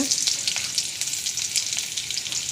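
Onions frying in hot oil with mustard seeds and urad dal in a tempering for a fish curry: a dense, continuous crackling sizzle with small pops, close and steady throughout.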